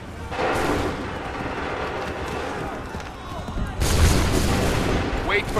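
Massed musket volley fired by soldiers in a Revolutionary War battle in Assassin's Creed 3, a broad crackling burst that swells near the end over continuous battlefield noise and shouting.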